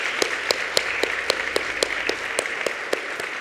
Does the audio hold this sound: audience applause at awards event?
yes